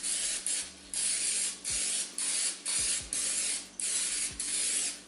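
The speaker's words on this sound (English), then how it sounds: "I'm gonna just use some canola spray and just spray the" Canola cooking spray hisses onto a pan in a series of about seven short bursts, each a broad airy spritz separated by brief clicks of the nozzle, close up.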